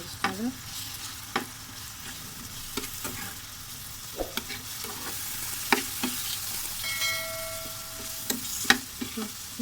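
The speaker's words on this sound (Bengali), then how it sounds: "মরিচ পাউডার মশলাগুলো ভালোভাবে কষিয়ে নিচ্ছি" Onion paste, salt, turmeric and red chili powder fry in soybean oil, a soft sizzle under repeated scraping stirs of the spatula in the pan, with a brief tonal squeak partway through.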